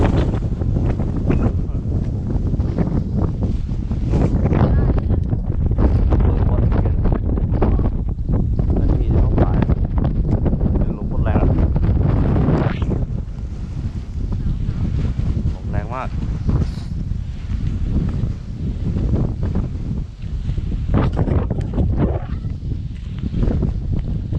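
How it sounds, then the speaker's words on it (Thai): Strong winter wind gusts across open rice fields in the countryside, buffeting the microphone with loud, continuous rumbling and roaring throughout. "ลมมันก็มีลมหน้าหนาวแค่ตอนนี้แหละ"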